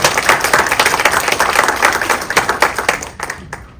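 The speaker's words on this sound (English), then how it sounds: "they deserve your compliments and applause right now" Audience applause and clapping for a marketing team at a live gathering, a dense, loud burst of many hands that holds steady and then thins out toward the end.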